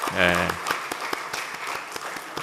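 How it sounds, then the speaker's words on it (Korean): A church congregation gives a round of encouraging applause for a student, brief clapping that begins under a voice and trails off into scattered claps. "한국 잘 적응하고 학업 열심히 하라고 우리 격려의 박수 보내겠습니다"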